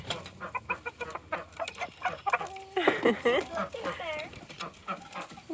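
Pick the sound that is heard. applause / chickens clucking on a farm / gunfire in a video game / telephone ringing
chickens clucking on a farm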